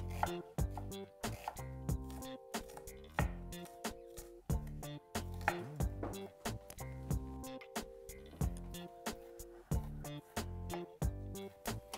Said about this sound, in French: J'émince les oignons et les échalotes.